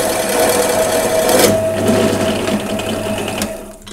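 A drill boring through a square wooden pen blank, a steady close whirring hum that rises in a short burst near the middle, then eases as the bit finishes the hole, no talk.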